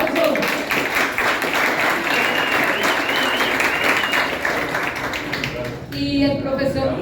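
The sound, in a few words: audience applause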